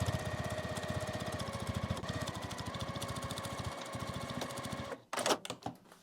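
A sewing machine stitches a French seam on a quilted makeup bag in a fast, steady whir of needle strokes, running continuously and close, then stopping with a few clunks and handling noises.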